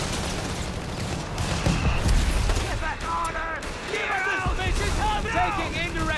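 Indirect artillery fire and scattered gunfire crash through a Company of Heroes 3 multiplayer battle, with steady low booms and crackling shots running throughout while game voices talk over the din.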